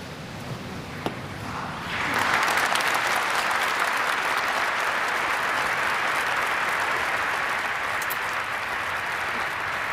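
After a near-silent moment and a faint thump, applause breaks out after a eulogy at a funeral, swelling into steady, sustained clapping from a crowd that continues without fading.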